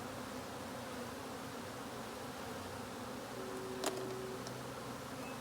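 Honeybees hum in a steady, close swarm during a cut-out of a hive from a tree, the drone even and continuous throughout with no voices.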